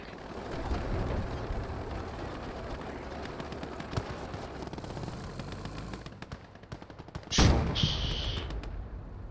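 Gunfire in the video game Call to Arms: Gates of Hell: a dense, continuous crackle of machine-gun bursts and scattered single shots, with a louder close blast near the end.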